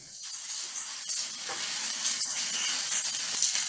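Ground pork seasoned with minced garlic, ground ginger, parsley and salt browns in a pan for a Japanese dish, giving a loud, continuous close sizzle broken by stirring scrapes throughout.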